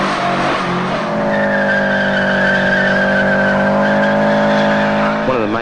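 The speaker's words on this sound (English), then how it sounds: "I like doing burnouts." A car doing a burnout, its tires letting out a loud, sustained squeal with steady droning tones over engine roar that holds for several seconds and wavers near the end.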